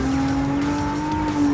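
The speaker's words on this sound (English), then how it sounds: "And the sound of the engine." Car engine in a PSVR2 racing video game, a steady droning hum with a sustained tone that holds evenly throughout the short stretch, loud and continuous with no talk over it.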